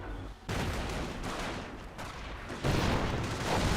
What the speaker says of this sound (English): Detonates a landmine there.